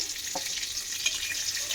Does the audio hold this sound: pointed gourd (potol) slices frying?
yes